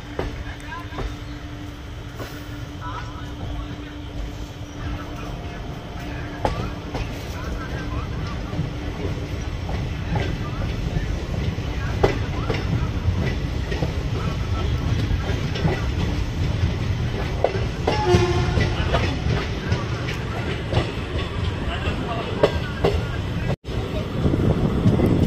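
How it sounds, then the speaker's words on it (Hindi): A special passenger train pulls out of Mandi Dhanora station, heard from on board. Steady wheel rumble and clickety-clack grow gradually louder, with wind noise and someone speaking over it at times. "तो मंडी धनोरा से अपनी ट्रेन का डिपार्चर हो चुका है।"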